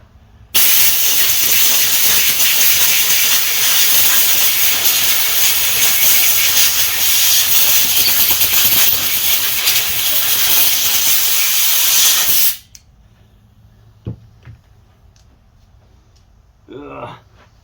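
Compressed air blasts through a Polaris carburetor held out off the workbench, a loud, close, steady hiss lasting about twelve seconds before cutting off abruptly into near silence and faint handling noises.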